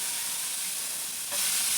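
Onions fry in hot oil in a kadai on a gas stove, a loud, even sizzling hiss close up that swells slightly near the end.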